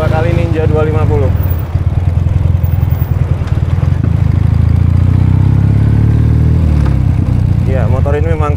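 A 2017 Ural Patrol motorcycle engine, rated at 41 horsepower and 78 Nm of torque, drones loud and low with a steady, pulsing rumble during a test ride, while a voice talks over it at the start and end.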